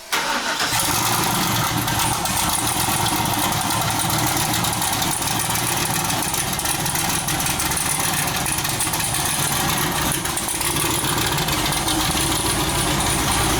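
A GM LS3 V8 swapped into a Mazda Miata sits at a loud, close idle with a rough, throbbing tone, occasionally pushed into short revs, running continuously with no talk over it.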